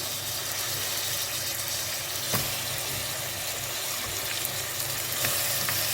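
Tomatoes sautéing in oil with ginger and garlic for tomato rice, a soft, even, close sizzle that holds steady throughout with a faint crackle now and then, no talking.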